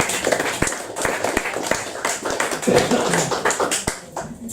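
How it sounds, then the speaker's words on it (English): An audience applauds poet Lisa Kelly at a Dodo Modern Poets reading, with a steady spatter of claps from a small crowd, fairly close and unbroken throughout. "More applause for Lisa Kelly, please."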